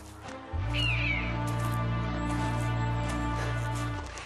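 A crow caws once, fairly faint, over a loud sustained low drone in a sound-effect backdrop for a tale about a dead leafless tree holding a colony of crows.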